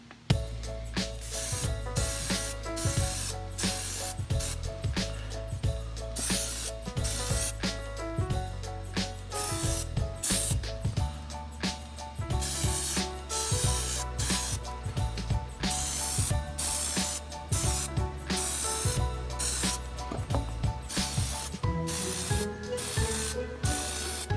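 Plasti Dip is sprayed from an aerosol can onto BMW M6 rims in a rapid series of short, close hissing bursts with brief gaps between, steady and rhythmic with no talking.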